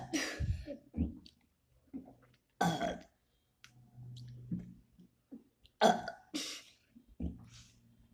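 A person burps repeatedly during a five-minute burping challenge, with short, close belches and croaks mixed with coughs, throat clearing and breathing between them.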